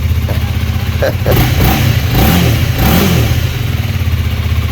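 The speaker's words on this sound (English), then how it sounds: "I can just tell by twisting the throttle on this one" A 2019 Honda Rebel 300 motorcycle engine is revved up and down with the throttle: a loud, close, low rumble rising and falling in a few quick blips, with voices talking over it.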